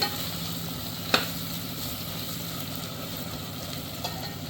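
Green chillies and onions frying in a pan for chicken dum biryani give a steady low sizzle, with a sharp utensil tap near the start and a softer clink later.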